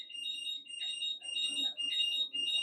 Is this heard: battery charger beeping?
yes